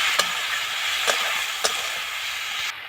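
Fish with turmeric, salt, chili powder, cumin powder and a splash of water being sautéed in a pan, giving a steady hissing sizzle with a few sharp crackles and pops, no voices.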